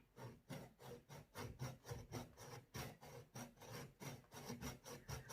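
A knife saws back and forth through a hard exotic fruit in steady rhythmic rasping strokes, close up and quiet, about two strokes per second.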